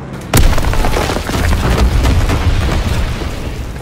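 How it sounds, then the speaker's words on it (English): Incendiary bombs explode in Call of Duty: WWII with a sudden heavy boom followed by a continuous roaring, rumbling wash of fire and debris, loud and close. "Incendiary bombs incoming."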